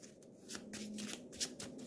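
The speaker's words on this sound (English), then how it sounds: "So let's shuffle the deck." A deck of Eldritch Horror board game cards being riffle-shuffled close by, a quick run of papery flutters and snaps lasting under two seconds, with no talking.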